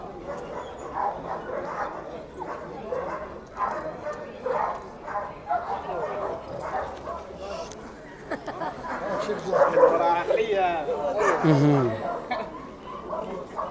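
A dog yips and barks a few times amid ongoing chatter from several people, with a whimpering cry rising near the end.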